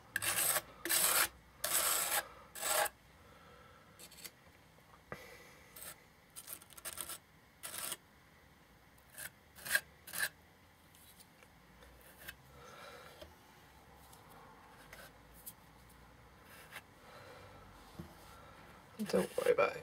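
Rasping scrapes of a tool working excess paper napkin off the edges of a decoupaged piece, several short loud bursts early on, then quieter intermittent scratching with occasional louder strokes.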